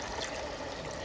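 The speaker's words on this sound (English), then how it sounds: "we add the water back" Water poured back into a pot of beef stew, a steady, soft splashing hiss that runs evenly for a moment with no voices over it.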